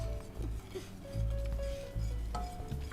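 Crème brûlée custard being mixed in a bowl, a utensil scraping and clinking against the sides in short irregular strokes, close and moderately loud with faint room noise.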